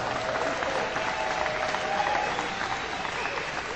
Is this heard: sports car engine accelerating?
no